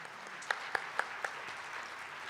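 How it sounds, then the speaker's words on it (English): Quiet, distant applause from the audience at a peace forum opening ceremony in PyeongChang, a steady patter with a few louder individual claps near the start. "Another big round of applause,"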